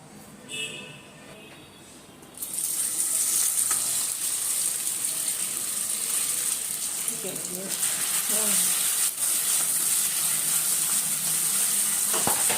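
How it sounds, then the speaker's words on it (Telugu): Vegetables frying in a little oil in a pan make a steady, fairly loud sizzling hiss that starts abruptly after a quieter opening and carries on to the end. "కొద్దిగా ఆయిల్ వేసుకొని చక్కగా మనం ఫ్రై చేసుకుందాము"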